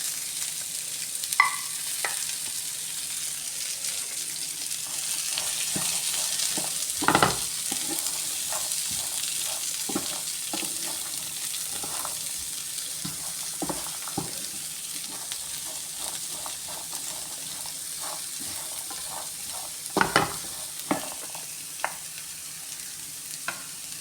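Green peas fry in a pan with a soft, constant sizzle while a utensil stirs and scrapes against the metal in irregular clinks and knocks, close by with no talking.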